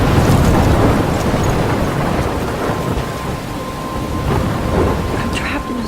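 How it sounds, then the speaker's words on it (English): Thunderstorm in the video game Life Is Strange: heavy rain pours steadily with deep thunder rolling loudly at first, then easing into a continuous wash of rainfall with scattered sharper drops. "I'm trapped in a storm?"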